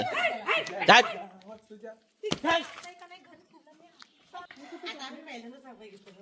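A dog barks and yips in short bursts, nearby, mixed with people talking over it.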